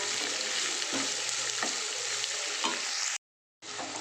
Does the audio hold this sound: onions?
yes